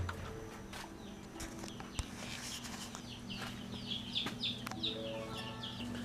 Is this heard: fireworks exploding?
no